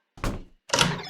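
Two dull knocks on a door in the video game 60 Seconds Reatomized, each a short thudding tap with a brief rattle, the second louder, close and with no voices.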